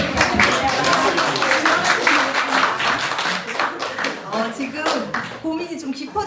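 A church congregation at a Sunday worship service claps after a presentation, a loose burst of hand claps mixed in with talking voices in the room.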